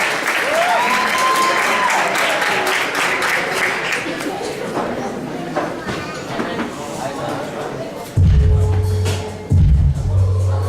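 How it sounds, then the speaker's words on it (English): Sustained, dense applause from an audience at a CSA Masquerade show, after a performer plays an original piece called Perpetual Motion, with cheering voices in the crowd; near the end, loud low-pitched music thumps in. "So can you get a round of applause for Ronaldo, please?"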